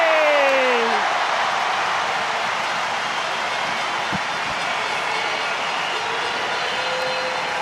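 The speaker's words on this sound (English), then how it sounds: "The crowd, the atmosphere here, Nick, is fantastic. They are cheering their players." Rugby crowd at a Women's Six Nations match between France and Italy, a broad steady roar of cheering filling the stadium, loud and continuous with a brief whistle-like tone at the start.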